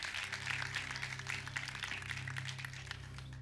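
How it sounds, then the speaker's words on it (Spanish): A church congregation breaks into applause for God, a faint, even patter of many hands heard over a steady low hum from a sound system, lasting a few seconds without pause. "Denle un fuerte aplauso al Dios Todopoderoso."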